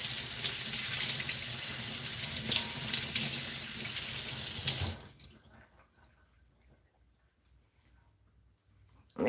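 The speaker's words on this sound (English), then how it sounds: "I'm going to go ahead and just rinse these off real good." A kitchen tap runs hard into a sink as cucumbers are rinsed, a loud steady splashing stream that cuts off abruptly midway, leaving faint drips and room quiet.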